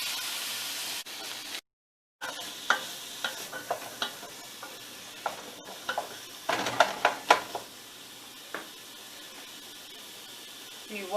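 Onion fries with garlic and ginger for chicken curry, a faint sizzle under repeated spoon scrapes and clinks against the pan, with a short gap of silence early on.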